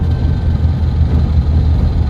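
A tuned turbocharged car with anti-lag drives along, its engine a steady low rumble and drone close by, constant throughout with no voices.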